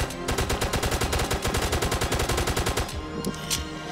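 Rapid automatic gunfire in the Roblox game Zombie Uprising, a loud, evenly spaced burst of shots that runs for nearly three seconds before stopping, followed by a couple of scattered single shots.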